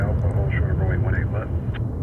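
Airbus A220 airliner engines at DFW Airport give a steady, heavy low roar that runs through the whole moment, with a person talking over it.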